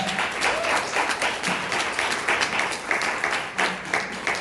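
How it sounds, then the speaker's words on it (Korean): An audience applauds a speaker steadily, a dense patter of many hands clapping at once, continuous throughout at moderate loudness. "큰 박수 부탁드리겠습니다"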